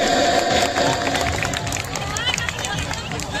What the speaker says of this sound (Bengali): এবার জোরে সবাই মিলে একসাথে করতালি হবে